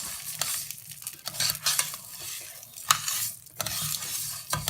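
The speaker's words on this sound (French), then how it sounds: "Vous mettez le riz dans l'huile sans eau, hein." Raw rice frying in hot oil without water as it is stirred, a close crackling sizzle broken by repeated scraping strokes of a spoon across the pan, no voices.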